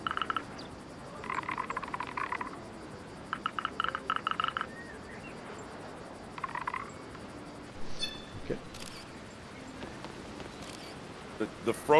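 A frog croaks in the Caravan Sandwitch video game, with short rhythmic bursts of croaks repeated in clusters over a quiet ambient background.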